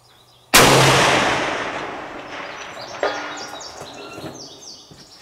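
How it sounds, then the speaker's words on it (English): A single loud, close report from a Swiss K31 rifle fired toward a 600-yard target, followed by a long rolling echo that fades over several seconds, with a fainter secondary crack a few seconds later and some birdsong in the background. "So I'm gonna take that shot again."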